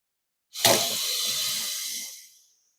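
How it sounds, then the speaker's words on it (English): Water runs steadily from a tap into a pot of spicy chickpea, mashed potato and corn soup for about two seconds, a close, bright hissing stream that starts abruptly and tapers off. "And I think I might actually add more water to this."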